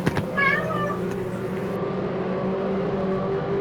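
A person imitates a cat meowing close to the microphone, a few rising and falling meows near the start, heard over steady engine drone from Porsche 944 Cup race cars at the Nogaro circuit.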